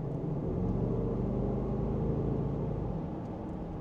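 Under acceleration, the engine of a Range Rover SVR gives a steady, loud, deep roar that holds for a few seconds from inside the car.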